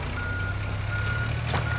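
A truck in the game Teardown gives steady reversing beeps, a continuous tone heard alone over a low engine hum.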